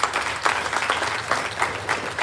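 A temple audience claps at a devotional gathering, a short burst of steady applause from a crowd, fairly close and with no talk over it.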